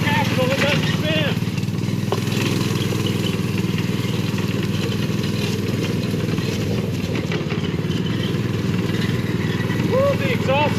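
A small yard kart engine runs steadily and loudly throughout, a constant low drone with rattling, while a person talks over it.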